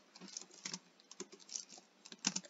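Soft, quick typing on a computer keyboard with irregular taps and small clusters of keystrokes, close but quiet, no voices.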